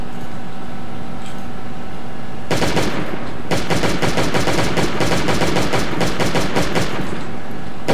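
Rapid automatic gunfire in the survival video game Last Day on Earth, a dense burst of sharp repeated shots after a single opening report, loud and continuous over a faint ambient hum.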